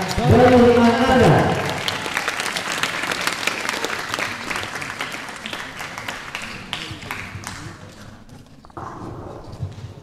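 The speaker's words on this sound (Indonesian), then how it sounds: "beri tepuk tangan sekali lagi" Audience applause at an Islamic boarding school Ramadan show in Tasikmalaya, loud clapping filling most of the stretch, a voice calling out briefly at the start over the crowd.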